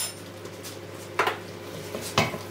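A spoon clatters against a pot twice while vegetable stock powder is mixed into liquid for a broccoli and butterbean soup, two distinct metallic knocks over a low kitchen hum, close and moderately loud.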